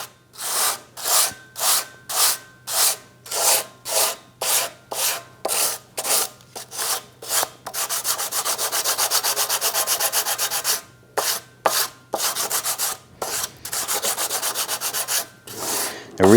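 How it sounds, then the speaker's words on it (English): Sanding a cylinder head flange on a 2011-2021 Jeep Grand Cherokee 3.6L V6 with 400 grit sandpaper wrapped on a wood block, rhythmic back-and-forth scrubbing strokes, close and loud, with a longer continuous stretch midway. "I'm just going to use some 400 grit sandpaper on a block of wood."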